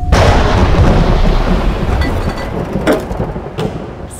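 A loud thunderstorm rumbles through a scene at an air hockey spot, with heavy, sustained thunder and rain-like roar that slowly fades, plus a couple of sharper cracks later on.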